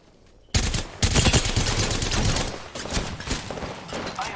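Video game gunfire erupts suddenly after a moment of quiet: loud, sustained automatic bursts with overlapping shots and impacts while the player comes under fire.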